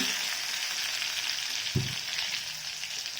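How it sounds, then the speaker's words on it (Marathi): Cumin seeds and finely chopped green coriander sizzle steadily in hot oil, a continuous close crackle with one brief low thump partway through; no voices. "आपलं तेल गरम झालं की त्यामध्ये आपल्याला अर्धा चमचा जिरे घालायचे आहेत हिरवी कोथिंबीर बारीक चिरलेली तेलामध्ये घालायची आहे"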